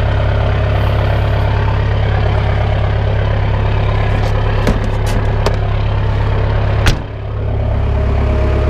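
A vehicle engine idles after its leaking fuel system was bled, a loud, steady low rumble close by with a few faint clicks and a brief knock near the end, and no voices.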